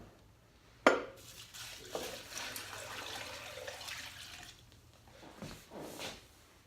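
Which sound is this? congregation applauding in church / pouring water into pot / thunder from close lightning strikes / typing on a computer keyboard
pouring water into pot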